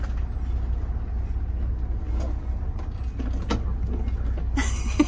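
A truck idles with a low, rumbling engine while sharp hisses of air brakes break out in short bursts, and a longer hiss comes near the end.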